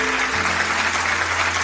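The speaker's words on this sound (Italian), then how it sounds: "Facciamo un applauso per tutti i nostri sponsor" Studio audience on an Italian radio-TV show applauding the sponsors, a steady mass of clapping over a low sustained musical hum, moderately loud and unbroken.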